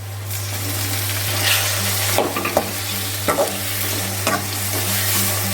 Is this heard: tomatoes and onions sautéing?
yes